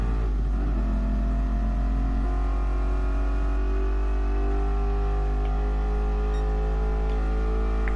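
A car downshifts and accelerates in Gran Turismo Sport, the engine note climbing and revving steadily with rising whine, heard alone without talk.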